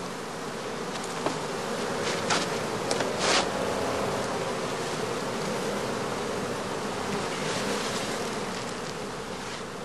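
Honey bees hum steadily around a straw skep hive standing where a strong, well-built colony used to be, a dense continuous buzz with a few louder bees passing close by the microphone.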